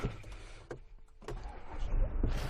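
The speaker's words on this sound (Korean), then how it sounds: "이 차는 시동 먼저 켜드릴게요" A BMW 520d diesel starts up from inside the cabin: a brief starter whir, then the engine catches and settles into a low steady idle rumble that swells slightly toward the end, with no talking over it.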